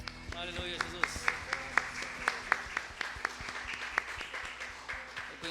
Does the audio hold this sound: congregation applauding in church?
yes